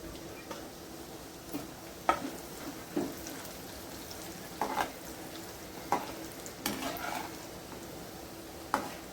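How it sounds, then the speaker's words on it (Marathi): Lentils (dal) frying in oil for a flattened-rice chivda, a soft continuous sizzle broken by regular scraping stirs and light clinks of a spatula against the pan every second or so. "आता आपण डाळ व फ्राय करून घेणार आहोत"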